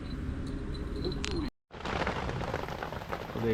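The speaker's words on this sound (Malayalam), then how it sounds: "വീണ്ടും മഴ" Steady rain hisses across the whole clip, loud and close, broken by a brief moment of near silence before the downpour resumes.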